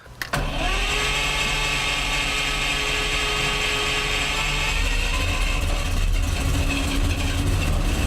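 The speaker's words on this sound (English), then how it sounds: "We are currently driving in the baddest SUV on the road anywhere." Cabin noise from a 1980s Lamborghini LM002 SUV being driven, a steady, loud engine drone and road rumble that runs the whole time without a break and with no talking.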